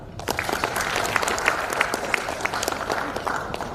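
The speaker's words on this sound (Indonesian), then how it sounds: "Tepuk tangan." Applause from an audience at a national leadership and working meeting of an Indonesian advocates' association, steady close clapping from many hands lasting several seconds.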